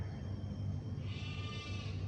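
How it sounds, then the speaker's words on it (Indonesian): A goat bleats once, moderately close, over a steady low background hum with no one speaking. "Tapi yang menyimak itu suara kambing."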